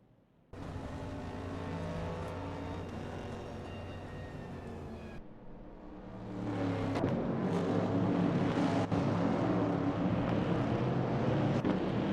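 Vintage Trans Am race cars lap a track in an AI racing video game, a steady engine drone that shifts tone midway, then grows fuller and rougher with a breezy hiss behind it.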